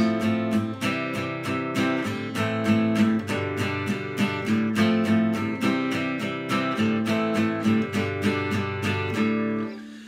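A guitar strummed in steady, even downstrokes, a continuous chopping rhythm of full chords played alone for several seconds.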